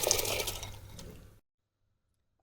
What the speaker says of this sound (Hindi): इस टाइम पे हम अपनी दालें जो हैं वो सारे इस पानी में डाल देंगे।